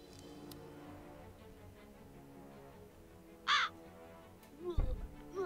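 A raven in the video game Lucius gives a single loud, harsh caw over a quiet low game ambience, followed shortly by a brief burst of other sound.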